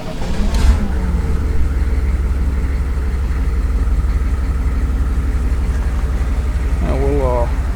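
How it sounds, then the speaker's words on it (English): A 1994 Chevrolet bucket truck's engine turns over with a brief starter burst, then settles into a steady, loud low idle that drones on throughout, with a short rising rev near the end. "Just go to engine start."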